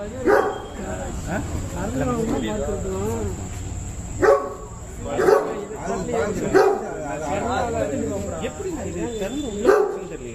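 Pet dogs at a house barking repeatedly at a cobra trying to get inside, sharp barks in irregular bursts over a background hum, with voices talking throughout.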